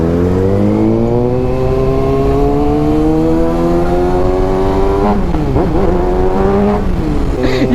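A Kawasaki Ninja ZX-6R 636cc sport motorcycle revs hard up through its gears, a loud close whine climbing steadily in pitch, then dipping and rising again in quick shifts, with no voices.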